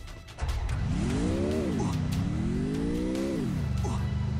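A car in the mobile shooter game Free Fire drives and accelerates with a rising, falling engine whine that revs up twice, loud and close, over a low game background.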